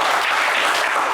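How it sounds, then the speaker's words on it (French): Audience on a French TV game show claps for a contestant, a brief, loud, dense burst of applause filling the whole moment. "on vous applaudit également"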